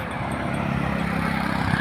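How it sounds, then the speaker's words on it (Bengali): Heavy road traffic rolls steadily along a busy route near Phulpur, a continuous broadband roar of passing vehicles with a low engine rumble, fairly close and constant with no talking. "প্রচণ্ড গাড়ি চলছে এই রুট দিয়ে"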